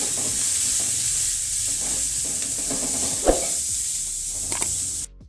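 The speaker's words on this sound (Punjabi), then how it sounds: "2 ਮਿੰਟ ਵਾਸਤੇ ਆਪਾਂ ਹੁਣ ਤੜਕੇ ਨੂੰ ਭੁੰਨ ਕੇ ਤਿਆਰ ਕਰਾਂਗੇ ਮਸਾਲੇ ਨੂੰ" Tadka masala of turmeric, amchur powder and crushed green chilli frying in a pan for a filling of stuffed capsicum, a steady hissing sizzle with stirring scrapes and one sharp knock near the end.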